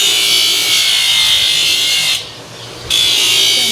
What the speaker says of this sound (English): Cooled it down, now we grind it.